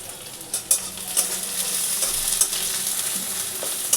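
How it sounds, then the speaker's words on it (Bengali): Onions frying in a pan give a steady, bright sizzle, with a spatula scraping and stirring in scattered bursts close by and no talking. "পেঁয়াজটা ভালো করে ভেজে নিলাম।"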